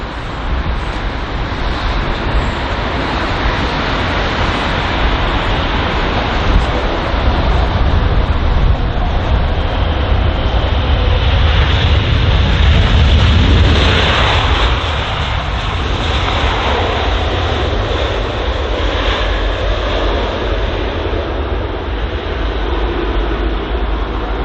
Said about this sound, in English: So next up is the British Airways Boeing 777-200 arriving from Vancouver on its 8-hour and 45-minute long flight.